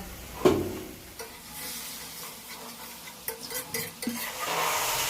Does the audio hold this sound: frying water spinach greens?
yes